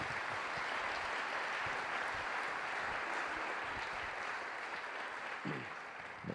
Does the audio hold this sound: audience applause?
yes